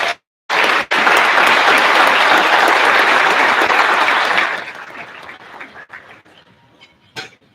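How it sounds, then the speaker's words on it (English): Conference luncheon crowd applauding honored leaders, a loud sustained burst of clapping that begins after a brief start-stop and then tapers off into scattered claps and quiet room noise. "Let's applaud these leaders."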